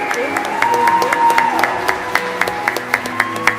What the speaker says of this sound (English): Carrie, a big cheer!